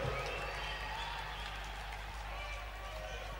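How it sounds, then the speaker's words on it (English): Applause and cheering from a live rock concert audience after a performance, a dense, steady wash of clapping filling the whole stretch with a low hum beneath it. "Good claps tonight."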